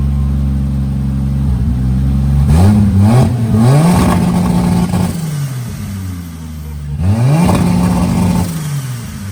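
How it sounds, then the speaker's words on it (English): A turbocharged Toyota 2JZ engine in a Lexus revving on a 2-step launch control, with loud repeated rises in engine pitch, rough crackling holds at the limiter and dips back to idle. "Sweet turbo noises."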